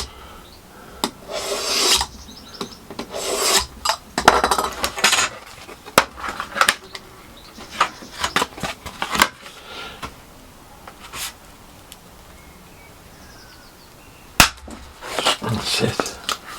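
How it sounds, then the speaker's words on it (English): A craft knife scoring thin sheet material in a small workshop shed, with repeated short rasping strokes in irregular bursts and a sharp snap near the end, close and fairly loud amid pauses. "I'll probably just cut it with a craft knife. Just score it a few times and then it should snap."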